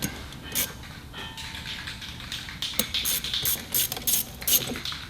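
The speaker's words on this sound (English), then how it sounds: "Got an 8mm hose clamp. Loosen it up a little bit." A ratchet clicks in short bursts as it loosens an 8mm hose clamp on a 2015 Corvette during a nitrous kit install, close and sharp with small metallic taps between the bursts.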